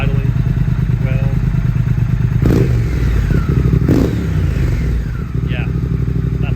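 A motorcycle engine idles steadily up close after an ECU tune, with a lumpy, even beat, a couple of sharp clunks or throttle blips, and a person speaking over it.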